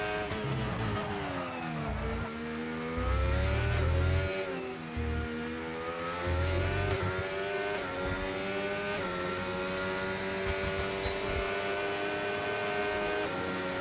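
An F2 race car engine at Imola in a racing video game, a steady high-pitched whine that rises and falls with gear changes and braking into a chicane, loud and continuous.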